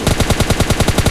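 Rapid automatic M4 rifle fire in PUBG Mobile Lite, a loud, close burst of about ten evenly spaced shots in a quick steady rhythm.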